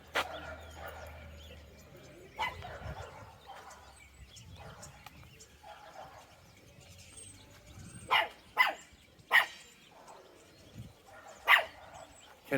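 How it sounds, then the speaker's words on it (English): Small dog barking in a village street, several sharp yaps at irregular intervals, the last few clustered together, heard at a moderate distance over quiet outdoor background. "Can't even see the dog. It's like cat sized."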